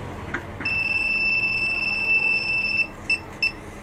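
A motorcycle alarm gives a steady, piercing electronic tone for about two seconds, then two short chirps; no one speaks.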